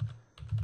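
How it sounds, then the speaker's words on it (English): Keys tapped on a computer keyboard while entering a web address, a short burst of close, soft clacks with a brief pause in the middle, no voices. "Launch your preferred web browser and type in the address"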